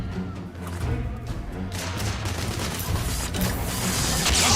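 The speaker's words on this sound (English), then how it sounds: "I'm taking heavy fire." Dense, continuous gunfire in The Order: 1886, rapid overlapping shots and crashes in a loud, busy firefight that builds toward the end, with no clear speech.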